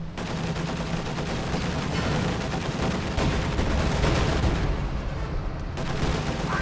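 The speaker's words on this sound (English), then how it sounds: "Scavenge artillery is getting dropped on the blob of combat engineers" Artillery fire pounds a cluster of combat engineers in a strategy game match, a dense continuous barrage of overlapping booms and gunfire rumbling loudly throughout with no letup.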